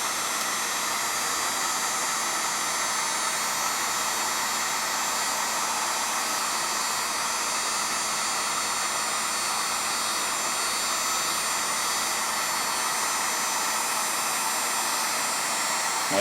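Heat gun blowing steadily on a painted rubber overmolded stock, a constant loud airy roar and hiss with no breaks, close to the listener throughout.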